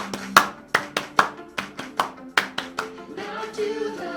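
Hands clap in a steady, even rhythm, about ten crisp close claps, then give way to singing toward the end.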